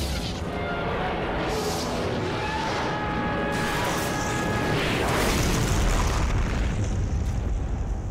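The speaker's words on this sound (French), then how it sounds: "Grenade aveuglante." A flashbang grenade going off in the World War II strategy video game Company of Heroes, within a continuous, dense wash of battle noise, booms and rumble that stays loud throughout with no clear single burst.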